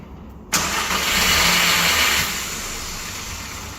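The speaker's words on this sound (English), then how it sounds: "And the car's engine will now start." A car engine turned on with a car alarm's remote start fob cranks abruptly and catches, then settles into a steady, fairly loud idle that eases slightly over the next seconds.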